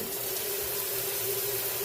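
Hot water runs steadily from a kitchen tap while poultry is washed in the sink, making a continuous close rushing hiss with no talk.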